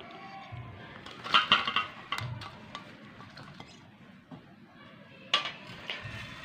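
Spoons and utensils clinking and scraping against a pot while pickle ingredients are stirred together with spices in a home kitchen, in a few brief bursts of metallic clatter with quiet pauses between.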